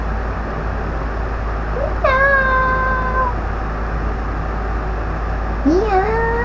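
A cat meows twice, a drawn-out rising cry followed by a shorter one, close and clear over a steady low hum, with a person nearby.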